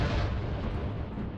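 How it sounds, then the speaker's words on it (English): A deep, booming explosion in the video game Terminator: Dark Fate Defiance rolls out loud and heavy, its low rumble sustained for over a second. "Oh, that was a big explosion."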